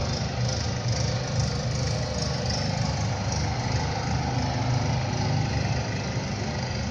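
A tractor engine runs as a stage sound effect during a one-act play performed at a drama festival, giving a steady, unbroken mechanical rumble at even loudness from start to finish with no voices.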